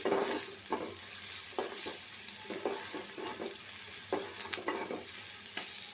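Onion and garlic frying in a pan for a small-fish chorchori, a steady close sizzle with repeated scraping stirs of a spatula at irregular intervals, no voices.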